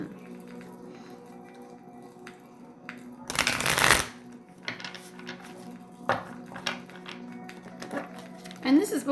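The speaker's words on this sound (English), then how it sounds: "Let's pull from another deck of tarot to see here." A tarot card deck being shuffled, one loud riffling burst in the middle with lighter card handling before and after, heard under a steady low hum and a quiet voice.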